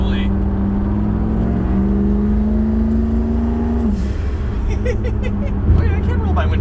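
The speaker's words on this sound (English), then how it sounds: "I'm gonna give you a little bit of turbo-y whooshy whoosh" A turbocharged 1000 HP LS1 Trans Am with a new air-cooled turbocharger accelerates, its engine tone climbing loud and close from inside the car, with a brief drop around the shift and then more pulling.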